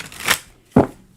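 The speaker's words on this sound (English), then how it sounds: "We're shuffling." Two quick riffles of tarot cards being shuffled by hand, close and crisp, with a short pause between them and no talking.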